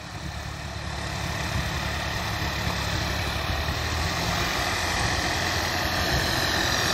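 A modified tractor engine with a GS Turbo fitted runs steadily and loudly at close range, a continuous dense rumble with no pauses or talk over it.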